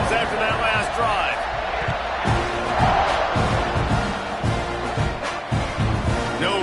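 A stadium crowd in a college football video game, Ole Miss against Texas A&M, roars steadily throughout with whoops and scattered thuds, while a voice talks over the din.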